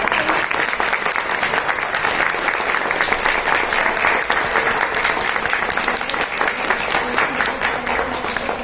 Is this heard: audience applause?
yes